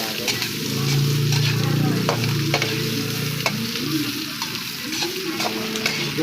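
Meat being added to a pan and frying for adobo, a loud close sizzle with stirring and clinking of a utensil, while a person talks over it.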